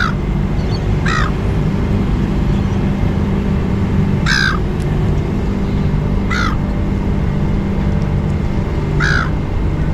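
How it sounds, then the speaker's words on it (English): Seagulls at the Sydney Fish Market give a few loud, sharp squawking calls at irregular intervals, cutting through a constant outdoor rumble of traffic and crowd noise. "20 bloody seagulls chasing one shell,"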